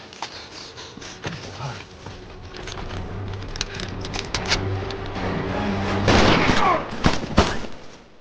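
Gunfire in a film scene set during a forest fire, with sharp shots and bursts of several reports cutting through a continuous rumbling background, growing louder and denser toward the end.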